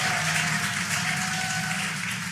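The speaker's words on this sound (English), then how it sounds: "You can hear the crowd here." A distant crowd cheers and roars steadily, a continuous wash of excited noise from spectators watching the Crew-9 Dragon capsule splashdown.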